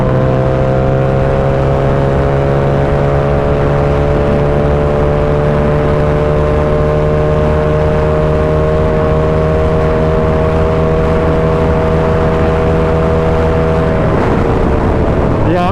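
A Yamaha R7 motorcycle engine runs hard at sustained top speed, a loud steady high-revving drone with strong wind rush, then the pitch drops as it slows near the end.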